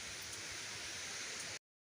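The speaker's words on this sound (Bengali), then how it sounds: "বৃষ্টি হলো" Steady hiss of rain falling, dense and even throughout, with no voices and a sudden cutoff at the end.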